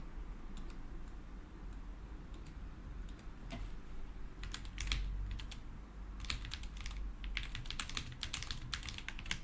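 Typing on a computer keyboard in a home setting, a steady run of fast, close key clicks that come in uneven bursts over a low background hum, with no voices.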